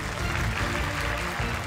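Children competing in a televised spelling bee cheer and clap after a correct answer, a dense, continuous burst of applause.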